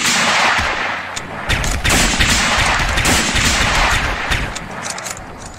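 Dense, sustained gunfire from several guns in the zombie-survival game Project Zomboid, with loud, rapid overlapping shots and bursts that continue almost without pause for several seconds.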